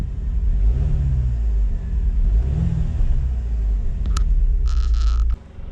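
A Jaguar F-Type Chequered Flag Edition sports car, in dynamic mode, revs its engine in two loud rising surges over a deep rumbling idle, close by, before the sound cuts off abruptly near the end.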